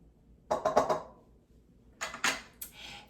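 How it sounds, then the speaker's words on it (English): A whisk beats dressing ingredients for dill pickle pasta salad in a bowl, giving quick clinking metal-on-bowl strokes in two short bursts separated by a pause, close and fairly quiet. "I'm going to whisk this to mix it up really, really well"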